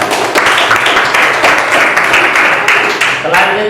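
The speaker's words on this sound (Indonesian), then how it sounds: "Oke, tepuk tangan." Schoolchildren in a classroom clap together in a brisk, fairly loud burst of applause lasting a few seconds, with voices mixed in.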